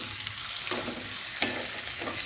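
Ginger garlic paste and curry leaves sauté in a pan with onion, giving a close, steady frying sizzle punctuated by a few stirring scrapes.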